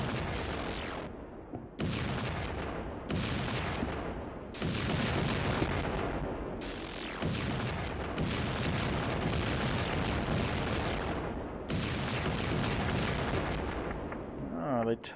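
Rapid explosions destroy a turret in the VR Missile Control game: a string of loud, rumbling booms bursting one after another, each cutting off abruptly before the next blast.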